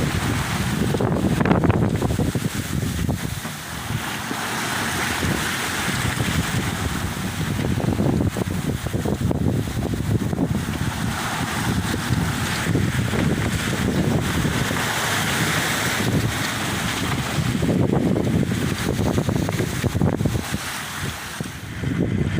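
A sailboat running with wind-driven waves of five or six feet on a Caribbean crossing from Luperón, Dominican Republic, toward Cuba: continuous wind buffeting the microphone, rushing water and swelling surges of sea noise, with no voices.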